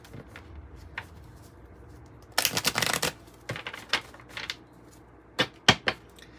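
A Kipper oracle card deck being shuffled, with a dense riffling burst followed by scattered crisp card snaps and taps, close and quiet between bursts.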